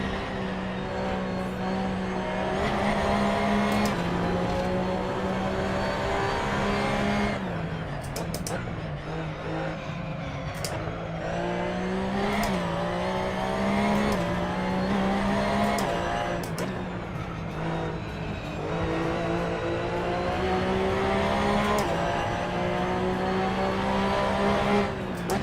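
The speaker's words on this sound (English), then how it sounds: "This is the Porsche Cup Car 2017." A Porsche Cup Car 2017 engine in a racing video game, a steady loud drone that rises and dips in pitch through gear changes and corners, with occasional brief talk over it.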